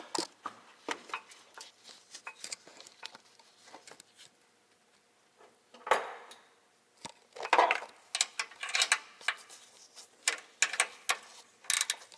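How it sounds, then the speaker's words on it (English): A nut is ratcheted onto the rear strut of a 2004 Ford Explorer 4X4: quick bursts of rapid clicking with short pauses between runs, close and moderately loud, with no talking. "watch that last nut being installed"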